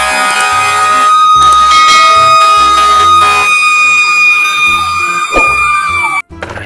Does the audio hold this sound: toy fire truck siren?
yes